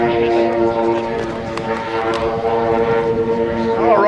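Large RC model B-29 bomber with four DA-100 gas engines throttling up at an air show, a loud droning multi-engine roar with steady harmonic tones that rises toward the end.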